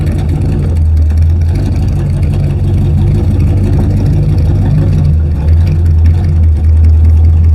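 A powerful hot rod engine idles with a deep, rough rumble, running steadily and loud close by for the whole stretch.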